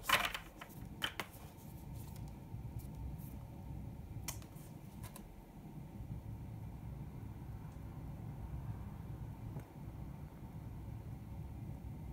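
Tarot cards shuffled, with a quick burst of riffling clicks at the start and a few more soft snaps later over a quiet, rumbling room background.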